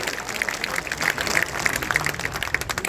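Men in a crowd at an NDA political rally in Supaul clap for the women present, a dense, steady patter of applause with sharp individual claps standing out.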